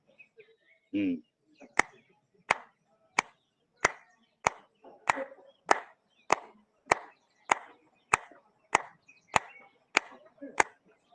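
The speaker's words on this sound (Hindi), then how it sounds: "इसके बाद ताली बजाएंगे 15 बार" About fifteen sharp hand claps during a yoga session, evenly spaced at a steady rhythm, close and crisp, each one standing alone with a brief voice sound just before they begin.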